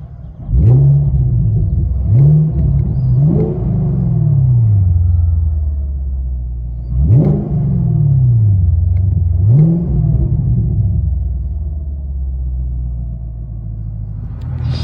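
A 2017 Chevy Camaro SS with a 6.2L V8 and dual Flowmaster Flow FX exhaust, blipped in sharp revving bursts, two pairs of rising-and-falling revs over a deep rumbling idle, loud and close.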